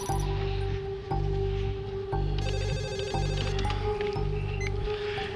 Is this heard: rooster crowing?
no